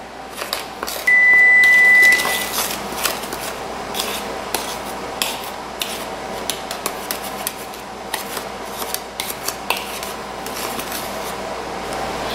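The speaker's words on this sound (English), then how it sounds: "Now you're going to mix all your dry ingredients together." Dry ingredients for a vegan chocolate cake being mixed in a bowl, a steady scraping, rubbing rasp with frequent small clicks and taps of utensil against the bowl, close and continuous, with a brief electronic beep early on.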